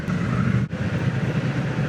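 Triumph Bonneville Bobber motorcycle engine runs with a steady throbbing mid-low pulse, close and continuous, with a brief dip in the middle.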